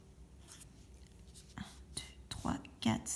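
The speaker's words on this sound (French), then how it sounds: "on va dessiner une chaîne de carbone" A pen or marker scratches and taps while drawing an eight-carbon chain on paper during a chemistry lesson, faint and close, in short irregular strokes with soft whispering underneath.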